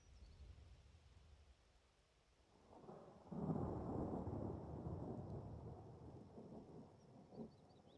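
Rain falls steadily in the video game Skyrim as a low rumble of thunder swells and rolls through, fairly faint and distant, with no voices.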